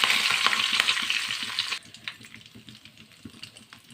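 Chana dal, mustard seeds, urad dal and curry leaves hit hot oil in a tempering, giving a loud, dense sizzle for under two seconds before it settles into quieter scattered crackles and pops.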